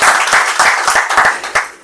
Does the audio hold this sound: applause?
yes